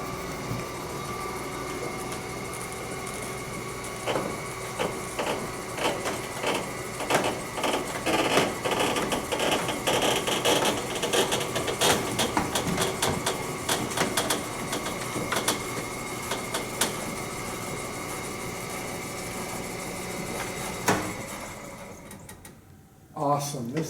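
A 1920 car elevator with old wooden rails grinds and rattles with continuous mechanical clatter and creaks as it slows, over a voice speaking, then comes to a stop near the end.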